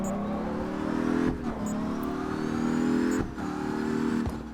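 A BMW M2 drift car in the CarX racing game revving its engine, a steady buzzing drone with two brief dips where the revs drop and climb again, close and without talk.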